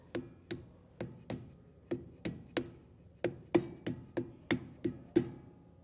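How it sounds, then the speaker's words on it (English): A hammer gives a trailer hub grease cap about fifteen light, evenly spaced taps to seat it during a Timken L44610 race install on a 2022 Forest River Rockwood Geo. The metallic knocks are close and crisp, with no talking. "give it some light taps with the hammer"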